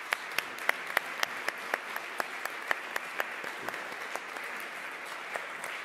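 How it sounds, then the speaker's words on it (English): A small audience at a panel discussion on gender bias claps, with distinct sharp individual claps standing out over a softer bed of scattered applause at a moderate, even level. "just give them a round of applause if we can"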